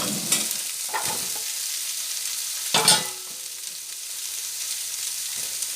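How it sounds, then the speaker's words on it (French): Vegetables tipped unrinsed into a hot pan for a turkey osso buco, a steady close sizzle with a few scraping stirs and clatters of the utensil against the pan, with no talking. "Et directement, on va incorporer les légumes sans rincer."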